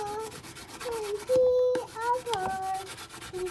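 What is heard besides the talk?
light sanding of a pen blank's Crystalac finish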